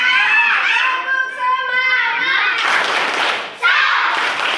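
Children in an English class chant and clap through a 'tepuk semangat' cheer routine, rhythmic hand claps mixed with young voices, ending in bursts of louder group clapping.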